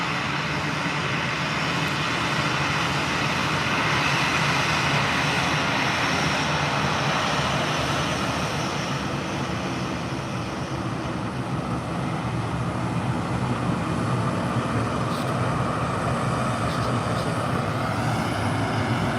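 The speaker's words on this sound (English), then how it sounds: "as this one's getting ready to depart" Airliner at Leeds Bradford Airport preparing to depart in stormy conditions, a steady broadband engine roar, loud and continuous, with strong wind noise throughout and no talk.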